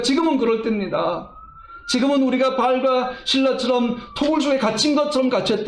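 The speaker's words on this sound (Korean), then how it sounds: "지금 밖에서 또 앰뷸런스 소리가 들려왔잖아요." An ambulance siren sounds outside a church during a Sunday service, a faint sustained wailing tone under a man preaching loudly in Korean.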